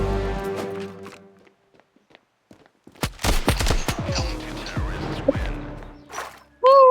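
Several sharp, loud blasts of shotgun fire in a one-on-one video game duel ring out in quick succession, trailing into echoing impacts, with a short burst of noise at the end.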